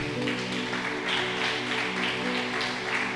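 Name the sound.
church congregation applauding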